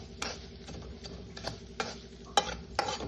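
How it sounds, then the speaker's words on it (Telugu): Mustard and fenugreek seeds spluttering in hot oil for a pickle of yellow cucumber, with faint sizzling broken by several sharp pops and scrapes of stirring, fairly quiet and without talk. "ఆవాలు మెంతులు కొంచెం చిట్టుపట్లు ఆడుతున్నాయి"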